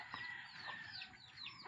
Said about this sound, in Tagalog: Ito yung matatangkad na manok